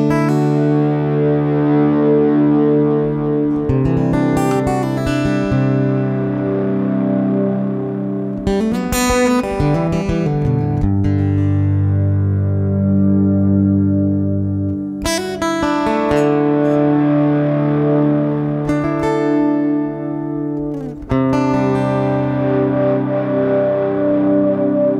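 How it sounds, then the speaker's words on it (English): Electric guitar run through a long, wet delay, building sustained pad-like washes of repeating notes that swell and overlap behind an acoustic guitar, loud and continuous with fresh strums every few seconds. "when I use a long, wet delay sound on the electric guitar sound. I can create pad-type sounds behind the acoustic guitar"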